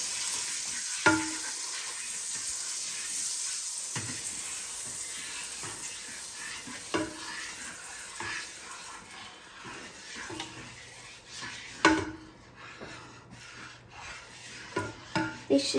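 Chocolate melting and being spread across a hot pan for a chocolate pancake, giving a soft continuous sizzle with scraping and rubbing strokes, plus a few sharper taps from the utensil.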